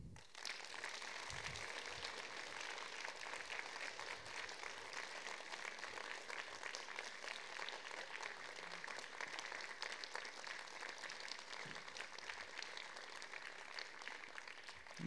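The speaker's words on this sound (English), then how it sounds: "You deserve the round of applause," At a young musicians' concert, a school audience applauds the winner of a Key Stage 3 music competition, the steady, even clapping of a hall crowd sustained for about fifteen seconds, faint and distant.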